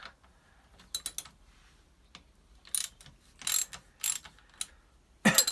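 Short bursts of ratchet clicking as a socket wrench loosens the swingarm pinch bolt on a Kawasaki ZX9R Ninja, several quick ratcheting spurts separated by pauses, close and crisp in a quiet workshop.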